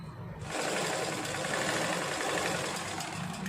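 A sewing machine stitches a petticoat, its fast, steady whirring hum starting abruptly and running continuously at a close, moderate level.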